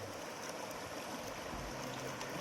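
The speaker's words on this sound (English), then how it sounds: "This camp is located besides this bank of Kaveri river. This is Kaveri river." The Kaveri river flows beside a riverside camp as a steady, soft rushing of water, faint and continuous with no voices over it.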